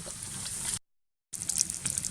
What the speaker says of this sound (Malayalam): ഇനി ഇതിലേക്ക് നമുക്ക് വെള്ളം ഒഴിച്ചു കൊടുക്കാം.